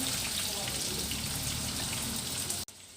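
Leftover grilled pork sizzles steadily in hot oil as it is refried to reheat, a close, even hiss that cuts off abruptly near the end.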